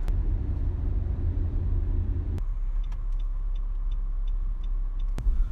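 A car drives through Berlin city streets, a steady low road rumble running throughout, with a brief click near the middle and another near the end.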